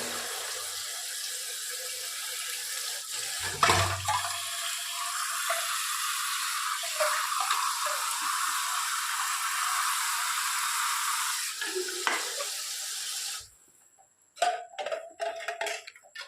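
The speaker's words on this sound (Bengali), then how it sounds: "এবার আমি গরম জলটা ফেলে দেব এরপর একটু ঠান্ডা জল দেবো" Hot water drains off boiled lentils in a long, steady, close pouring rush, followed by a sudden quiet and a few scattered clinks and splashes as cold water is added.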